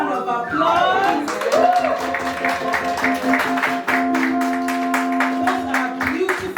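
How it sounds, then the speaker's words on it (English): Scattered hand claps from a congregation at a baby girl's naming ceremony, a short burst of clapping mixed with voices and a held tone, moderately loud and continuing steadily for several seconds. "Let's give the Lord a round of applause."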